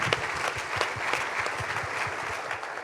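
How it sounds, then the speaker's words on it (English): Audience applause after a speaker at a government officials' event, a steady dense patter of many hands clapping at moderate distance, continuous and even throughout. "Can we just give them a big round of applause?"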